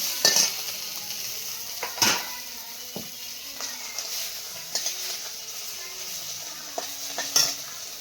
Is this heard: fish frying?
yes